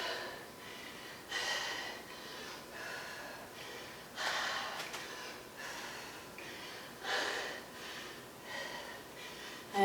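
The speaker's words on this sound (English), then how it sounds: "I know you can hear me breathing." Heavy, rhythmic breathing from someone exerting during a HIIT workout, a series of loud gasping exhales and snorting breaths close to the mic, with no talk.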